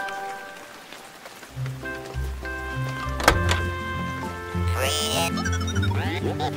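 Rain falls steadily on a cartoon farm while robots shelter in their van, a soft patter running under bright background music with a few dull thumps.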